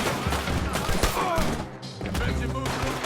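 Gunfire from guns in the video game Red Dead Redemption 2, a dense, loud barrage of shots and crashing impacts throughout with a brief lull near the middle, under game ambience.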